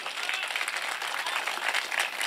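An audience at a Hindi poetry recital applauds, a steady, even wash of many hands clapping throughout, moderately loud and without voices.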